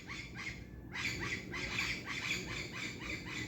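Several birds squawk in repeated harsh calls over a steady low background rumble, the cries coming in a loose rhythm at moderate distance.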